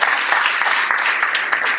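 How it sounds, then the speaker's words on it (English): An audience applauds panelists at the close of a media panel in Hamtramck, a short, steady burst of many hands clapping with no speech over it. "Let's give them all a nice round of applause."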